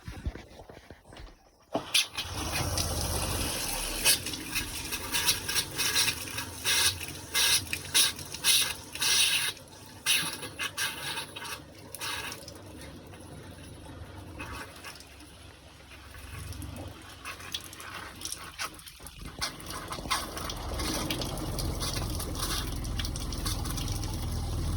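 Water rushes and gurgles as it fills pressurized water kegs in an off-grid caravan, with irregular surges, brief pauses and a steadier gushing flow toward the end.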